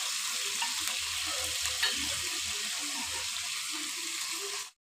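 Fish and vegetables fry in a pan with a loud, steady, hissing sizzle that holds throughout, broken by occasional soft stirring clinks before cutting off abruptly at the end.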